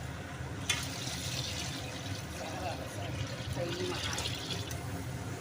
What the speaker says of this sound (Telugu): ఇప్పుడు వాటర్ అనేది పోసుకుంటున్నాం అన్నమాట